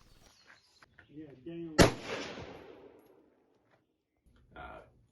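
A single loud rifle shot from a gas-adjusted rifle cracks sharply and then rings out in a long fading echo, with brief voices just before and after it.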